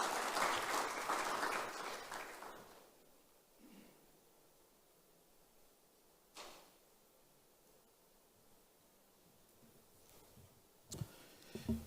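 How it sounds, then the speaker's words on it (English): Audience applause at a mobile tech for development conference, a short burst of clapping fading out within a few seconds, followed by near silence with faint rustles and a few soft knocks. "A round of applause for him as he joins us here."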